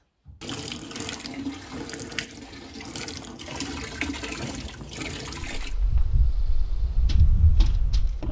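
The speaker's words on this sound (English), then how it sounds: "And boom, there's my wastewater. No leaks." Wastewater rushes and gurgles through the drain pipes of a small quiet home, a steady close flow that deepens into a heavier low rumbling surge partway through.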